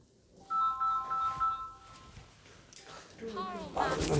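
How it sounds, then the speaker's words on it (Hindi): A phone ringtone for an incoming call plays as a clear electronic melody of tonal beeps. Speech takes over partway through, and the tones return faintly under the voices. "फोन आ गया, उठाना बहुत जरूरी है।"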